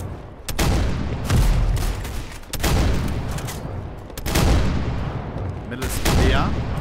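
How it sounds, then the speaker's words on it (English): Gunfire and a grenade blast in a Roblox tactical shooter modelled on CS2, four heavy bursts of shots and booms spaced a second or two apart, loud and close. "Grenade."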